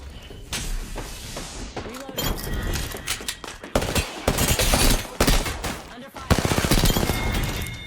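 Rapid bursts of gunfire from an R99 and other weapons in an Apex Legends match, loud and close, with dense volleys broken by short pauses and thuds.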